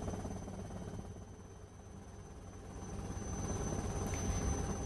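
A helicopter flying over the sea, its rotor and engine making a steady muffled throbbing drone that holds at moderate loudness and grows slightly louder toward the end, with no voices.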